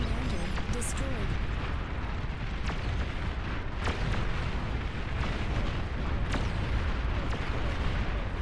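Video game explosion as an enemy commander is destroyed, a dense rumbling blast layered with scattered booms and pops over a steady noisy roar, with a voice talking over it.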